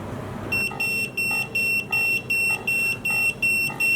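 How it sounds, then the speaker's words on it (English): A ThermoPro TempSpike Plus meat thermometer alarm beeps in a rapid repeating pattern of high electronic tones, about eight pulses in quick succession, clear and close in a quiet kitchen. "And a nice alarm to remind us."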